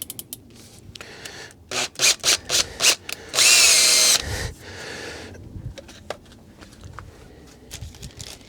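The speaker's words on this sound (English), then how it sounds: "I suppose I could risk it and put it in the drill" A power drill whirs in several short bursts, then runs steadily for about a second before stopping, followed by scraping and handling noises.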